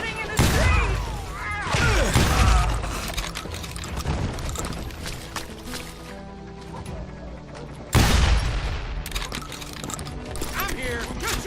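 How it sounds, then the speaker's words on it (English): Loud, dense shotgun blasts and gunfire in a video game street shootout, with rapid overlapping shots and heavy booms throughout and a fresh burst of firing partway through, mixed with shouting voices. "Shooting in the street!"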